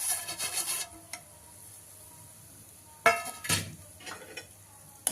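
Roasted rava (semolina) being stirred in a pan, with scraping and clinking strokes in short bursts separated by quiet gaps, close and moderately loud.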